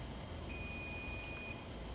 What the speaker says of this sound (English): Now, Edgar, please turn on the system component fail alarm.